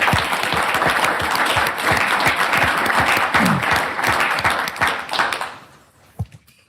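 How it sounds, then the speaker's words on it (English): An audience at a city council meeting bursts into sustained applause, many hands clapping briskly for several seconds before it thins out to a few last claps and quiet. "Can we give them a round of applause,"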